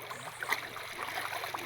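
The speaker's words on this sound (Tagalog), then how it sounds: "Ayan po ang ilog na aming pagkukuryentihan." A river flowing outdoors with soft, continuous gurgling and trickling water, faint and steady throughout.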